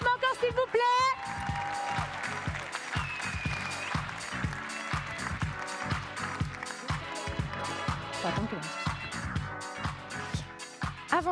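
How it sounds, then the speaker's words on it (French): Audience at the Tech For Future 2024 awards ceremony applauds with rhythmic, steady clapping under loud upbeat music, sustained throughout as the winners walk up. "On veut plus d'applaudissements encore, s'il vous plaît"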